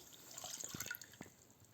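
Compote poured over semolina in a pot, soft splashing and dripping liquid sounds, faint and brief, with a few small drips and trickles near the end.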